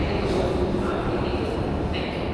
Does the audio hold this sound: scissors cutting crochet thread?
no